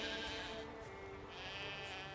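Sheep bleat in The Witcher 3: Wild Hunt, giving one drawn-out, wavering in-game bleat at moderate volume over a steady game soundscape, with no talk.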